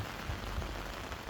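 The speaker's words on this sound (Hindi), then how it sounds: "अभी देखो क्या भयंकर बारिश हो रही है।" Heavy rain pours down in the pilgrimage town of Mariazell, Austria, as a dense, steady hiss of drops striking surfaces, loud and continuous, with no voices.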